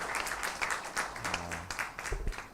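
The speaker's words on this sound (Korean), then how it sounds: "우리 다시 한번 귀한 봉헌 찬양 들려주신 정소연 팀장님께 감사의 박수 보내드리겠습니다." Quiet congregation clapping in a university chapel service after an offering hymn, scattered, thin applause with a low hum and a few soft sounds underneath, fairly faint.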